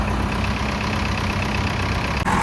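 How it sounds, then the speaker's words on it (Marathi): A tractor engine runs steadily with a low, rumbling drone as the tractor pulls free after being stuck on wooden logs. The sound is loud, close and continuous, with a slight change in tone near the end. "शेवटी ट्रॅक्टर निघला"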